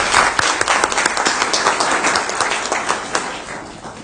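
Audience at a school district board meeting clapping in a quick, dense burst that stays steady and fairly loud throughout, with no talking over it.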